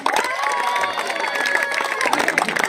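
Spectators at an academy kabaddi match between two platoon teams clap and cheer in a lively mix of shouts and claps, with young voices yelling over the clapping throughout.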